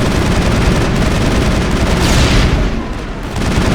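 Sustained, dense gunfire during a Mass Effect firefight at Port Hanshan on Noveria, loud and continuous with heavy booming shots, briefly thinning near the end before resuming.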